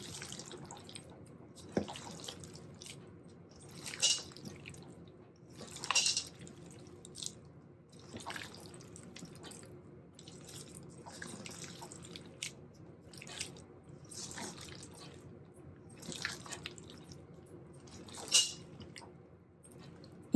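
A spoon stirs relish into potato salad, making faint, soft, wet squelching and scraping sounds in irregular strokes, quiet and close with no talking.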